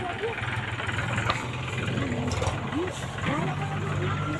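A tractor engine idles with a steady low rumble while a person talks over it nearby.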